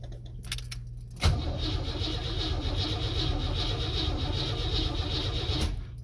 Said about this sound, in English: I really should do a proper cold start on this thing.